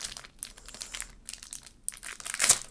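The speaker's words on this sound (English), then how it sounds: "And we open the pack." Foil wrapper of a Pokemon card pack being torn open by hand, close up: a run of crinkling and crackling bursts, ending in a louder, sharper rip.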